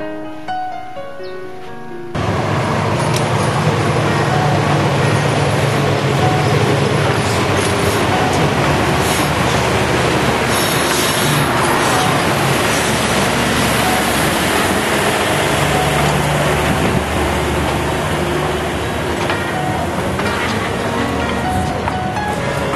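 A train rumbles past steadily at close range, a loud, unbroken roar of wheels and carriages that holds for about twenty seconds after a quieter opening.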